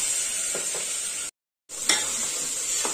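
Mint, fenugreek leaves and ginger-garlic paste fry for a mutton cashew curry, a steady close hiss with a few soft spoon scrapes, cut by a brief moment of total silence midway.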